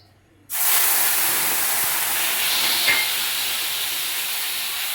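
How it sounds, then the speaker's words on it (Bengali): Onion dropped into hot refined white oil bursts into a loud, steady sizzle that starts abruptly after a brief quiet moment and keeps hissing evenly throughout, close and bright. "এই পেঁয়াজটা আমি এবার তেলের উপরে দিয়ে দেবো।"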